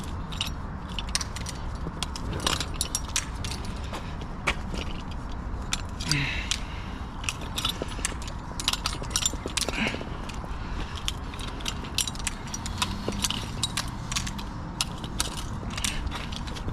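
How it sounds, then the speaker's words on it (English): Safety pins are pulled from a row of fire extinguishers, giving scattered close metallic clicks, jangles and rattles over a steady low background rumble. "We're going to pull the pins. Get rid of the pull pins."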